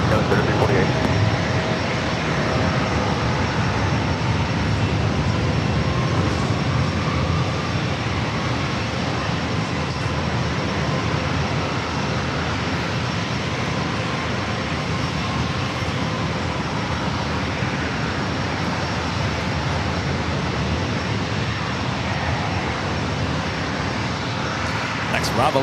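At San Diego airport, an airliner taking off produces a continuous, dense engine roar that stays fairly even in loudness for about twenty-five seconds.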